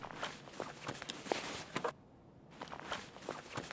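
Soft repeated footsteps in Escape From Tarkov fall in a steady walking rhythm at low level, pause briefly, then resume.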